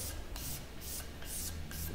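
A utility knife blade scrapes across wood in repeated rasping strokes, about six even passes, close and fairly loud.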